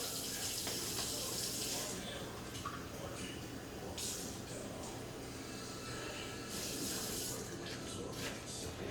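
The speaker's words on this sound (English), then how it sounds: "so we're going to fill these up halfway with water" Running tap water filling meatloaf pans halfway in a home kitchen, a steady hissing stream with faint splashing that swells and eases over several seconds, soft and close.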